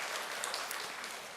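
A church congregation claps for the choir after a hymn, a steady, fairly faint wash of applause with no voices over it.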